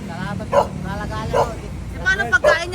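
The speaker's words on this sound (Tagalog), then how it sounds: "Ang dami niya pong aso. Oy, ang daming aso ni kuya." Several dogs belonging to a man bark and yip in short bursts, a few sharp yaps standing out over ongoing people's chatter and background voices.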